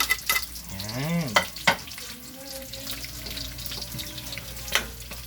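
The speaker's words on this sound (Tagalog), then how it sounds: "Kailangan ay igisa natin siya din ay mismo sa pinagkutsahan ng baboy." Onions sautéing in pork drippings in a pan for pinakbet, a steady sizzle mixed with stirring and scraping clatter, with a few sharper clanks near the start.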